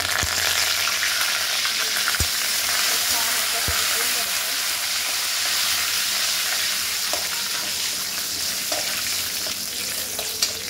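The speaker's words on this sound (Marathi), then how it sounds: "तेल गरम झाल्यावरती तेजपत्ता, लवंग आणि वेलची टाकले।" Bay leaf, cloves, cardamom and curry leaves hit hot oil for egg masala, producing a loud, dense, continuous sizzle with a couple of sharp clicks from the pan.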